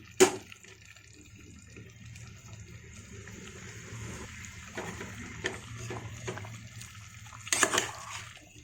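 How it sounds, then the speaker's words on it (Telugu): A glass of water poured into a cooking pot while making home-style country chicken curry, a soft running, splashing flow over a steady low kitchen hum with a brief louder splash near the start and another near the end. "ఒక గ్లాస్ వాటర్ పోసుకోవాలి."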